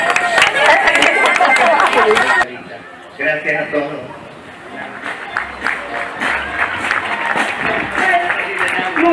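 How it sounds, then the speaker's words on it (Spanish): Audience applause and crowd noise at the close of an event held for a campaign against violence towards women, loud clapping at first, then quieter crowd babble with a voice speaking over it. "un fuerte aplauso para todos"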